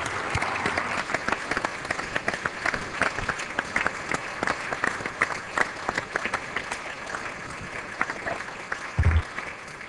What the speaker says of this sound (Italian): tutto il Consiglio e tutta la Giunta gli possa dedicare un sincero e accorato applauso al nostro amico